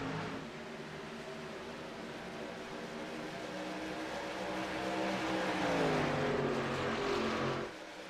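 Race trucks of the Hung Throttle Truck Series at Chicagoland launching at a green flag start: a sustained, somewhat distant engine drone that swells and climbs in pitch toward the end before dropping off.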